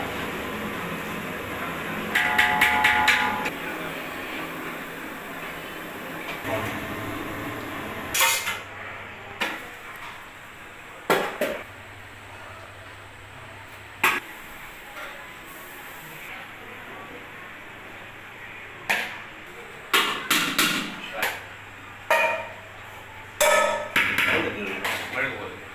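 A ladle scrapes and clanks against a pot as biryani masala is stirred before the rice goes in, giving scattered metallic knocks and scrapes over a low steady hum with faint background voices.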